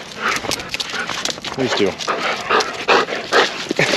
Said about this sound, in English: it's been about 6 days since the dogs have seen me, so they're going crazy